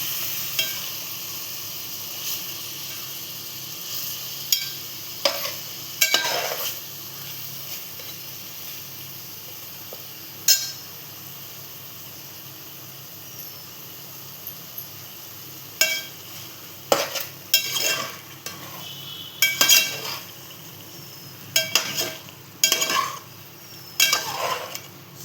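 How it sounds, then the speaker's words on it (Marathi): Masala for tandoori biryani is stirred and fried in a pan, with a constant soft sizzle broken by repeated scraping and clinking of a spoon against the pan, close and irregular, no talking. "हे ढवळून ढवळून फ्राय करायला लागणार आहे आता"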